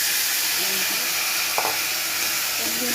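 Fish sizzling and frying in a pan for a thin curry with green chilli and tomato, a steady loud hiss throughout with faint clinks of stirring.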